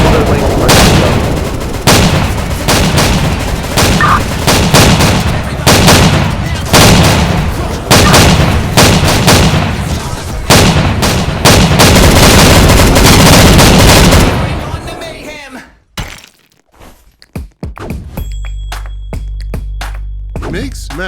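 Heavy gunfire and explosions in a riot-fighting scene: loud, dense bursts of repeated shots and booms for about fifteen seconds, then a sudden drop to near silence with a low hum.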